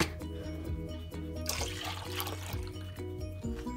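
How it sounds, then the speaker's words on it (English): Milk, about a liter, poured into a pot: a soft watery splashing swells for a second or two midway, partly buried under steady background music. "Here in a pot I'm going to add 2 pints of milk, or 1 liter"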